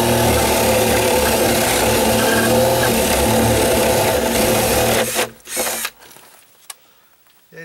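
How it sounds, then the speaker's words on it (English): A power drill whirs continuously, grinding into deck wood for about five seconds, then winds down and stops, leaving near silence with a brief click. "So I'll just get this out and drill one down here."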